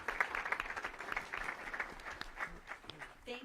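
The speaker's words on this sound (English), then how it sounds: "Can we give them another round of applause?" An audience at a California governor candidate forum in Fresno applauds with a steady patter of clapping heard from a moderate distance, while a voice speaks over it.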